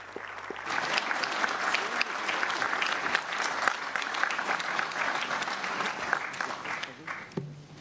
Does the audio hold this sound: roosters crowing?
no